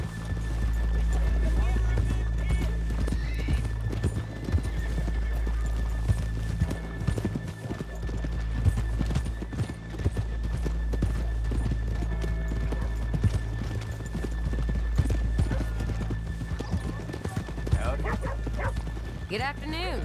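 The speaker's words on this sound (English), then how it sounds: "let's leave the horses here off the main drive" Horses in Red Dead Redemption 2 move in clip-clop hoofbeats through a steady game soundscape, with a whinny and barking dogs around them and occasional voices over the top.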